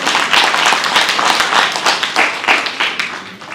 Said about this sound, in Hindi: जोरदार ताली इनके लिए